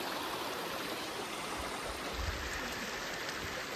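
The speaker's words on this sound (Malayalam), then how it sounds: "മലൻ്റെ മുകളിൽ നിന്ന് വെള്ളം ഒലിച്ചു വരുന്നു" Cold water runs down a mountainside stream near Kasol in Himachal Pradesh, a steady, close rushing and gurgling wash that continues without a break.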